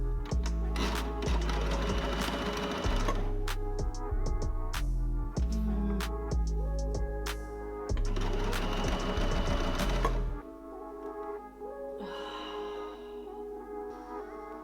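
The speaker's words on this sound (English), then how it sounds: "I'm going to sew the sides together and then the lining to the top" Sewing machine stitching the sides of a polyester-threaded bikini with a stretch needle, running in steady bursts with brief stops for about ten seconds before falling quiet, clear and close.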